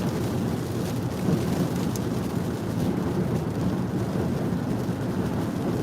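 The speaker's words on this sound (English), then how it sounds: "Hitting some rain here in West Virginia." Steady rain while driving through the West Virginia mountains, a dense, even hiss of drops mixed with low road and cabin rumble, constant and fairly loud with no talking.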